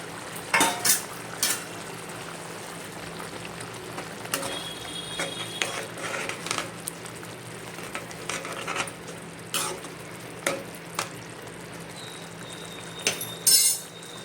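Fried paneer and capsicum go into a boiling gravy with a little sugar and are stirred, giving scattered metallic clinks and scrapes of a spoon against the pot over a low, steady background hum.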